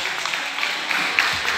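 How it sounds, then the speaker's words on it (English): A short burst of steady applause from a crowd, sustained clapping at moderate volume. "Give him a round of applause."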